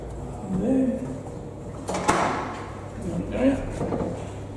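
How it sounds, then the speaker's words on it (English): A manually operated lift door at a police station slides open and then shut, two distinct clunking rolls about a second apart, close by, with faint voices and tones in the background. "manually opens the door and exits the lift, closing the door behind him"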